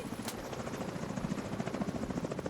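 Helicopter in the video game The Division, a steady chopping rotor throb held at a constant middle distance, with no talk over it.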